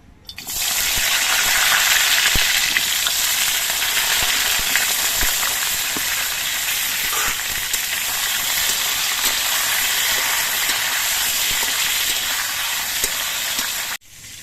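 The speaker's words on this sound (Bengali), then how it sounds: "এবার সবগুলো পটল আমি ভেজে নিচ্ছি" Pointed gourd pieces frying in hot mustard oil in a wok give a loud, steady sizzle that runs unbroken for most of the clip, with faint stirring clicks underneath and no talk.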